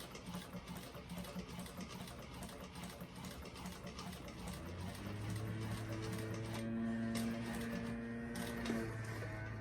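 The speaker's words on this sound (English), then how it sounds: "Take it nice and slow so you get a really nice top stitch on it." A sewing machine top stitching a bag, its rapid mechanical stitching running quietly and steadily while a low motor hum rises and holds in the second half.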